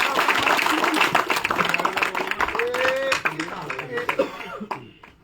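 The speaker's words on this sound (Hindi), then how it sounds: "जोरदार तालियों से स्वागत करें" An audience claps loudly to welcome Zakir Hussain onto the stage at a political event where a member joins the BJP in Jammu and Kashmir. The dense clapping runs throughout and fades near the end, with voices and brief laughter mixed in.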